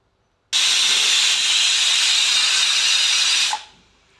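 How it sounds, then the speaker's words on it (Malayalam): Chickpeas cooking in a pressure cooker for a Kerala-style chickpea curry, releasing a loud, steady hiss of steam that runs unbroken for about three seconds, then cuts off abruptly. "ഒരു 20 മിനിറ്റ് നമുക്ക് കുക്കറിൽ വേവിച്ചെടുക്കാം."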